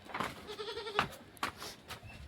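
Goats, including small young kids, bleat on a Konkan-area farm with a few close, wavering cries rising over quieter farmyard background, one loud bleat standing out near the middle.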